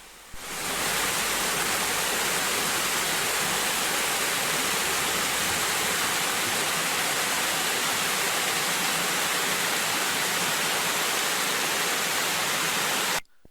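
Steady, full roar of a waterfall in Michigan's Upper Peninsula, a series of drops up to 15 feet high, a continuous broadband rush of falling water that holds constant throughout with no voices.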